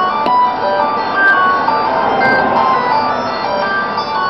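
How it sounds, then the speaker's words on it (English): A mobile phone rings with a repeating electronic melody, clear and fairly loud over faint room noise in a garage with a 2016 Honda CBR1000RR motorcycle. "So, that's my phone ringing."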